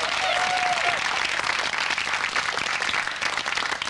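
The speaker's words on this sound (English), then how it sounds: "Big round of applause." Studio audience at a 1998 food quiz show bursting into loud, dense applause that holds steady throughout, with a brief whoop near the start.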